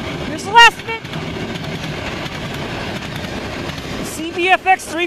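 A Canadian National freight train led by a C45AH-T4 locomotive rumbles past steadily in Ladysmith, its wheels clattering over the rails, with a few sharp high squeals near the start and end.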